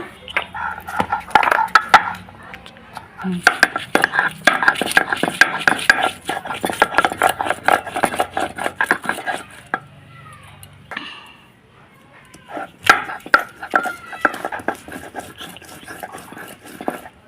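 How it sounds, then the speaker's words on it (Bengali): Spice paste including ginger being ground on a shil-bata stone, rhythmic scraping and knocking strokes of stone on stone that come in bursts, with a brief pause partway through. "নিয়ে চলে এসেছি শিলবাটার কাছে এখন ফটাফট বেটে নেব"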